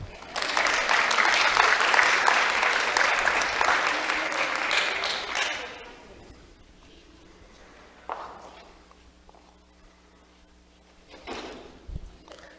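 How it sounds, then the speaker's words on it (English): Audience applause for little helpers, boys who have just set up a table, bursts out loud and dense for about five seconds, then fades into a quiet room with scattered footsteps and knocks. "A round of applause for our little helpers"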